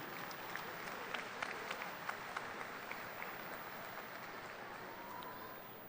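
Audience applause at a Topeka West High School graduation ceremony, a broad and even roar of clapping from a large crowd in a big hall, fairly distant, with a few sharper claps standing out now and then.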